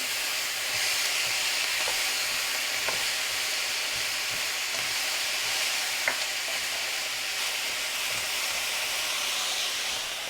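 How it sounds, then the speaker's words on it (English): Steak bites for smoked pepper steak sizzle steadily in a hot pan, a dense continuous hiss with a few light scrapes of a stirring utensil, close and even throughout. "we're going to go ahead and get our steak bites in there. And give it a quick little stir here."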